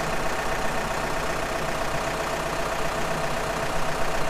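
A tractor engine runs steadily nearby in a boat engine and drive installation workshop, a continuous loud broadband drone with no change in pace and no talking.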